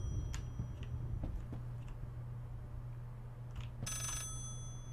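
An old telephone bell rings in the horror video game Layers of Fear, a brief metallic trill near the end after scattered ticking clicks, all over a constant low hum.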